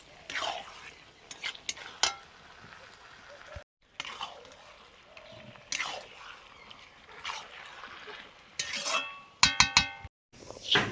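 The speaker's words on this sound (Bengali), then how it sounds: "মশলা কষানোর পরে মাংস দিয়ে দিচ্ছি।" Meat frying in a pan after salt and spices have been cooked down, with intermittent stirring scrapes, sizzling and clinks of utensils against the pan, broken by short silent cuts and a few sharp metallic taps.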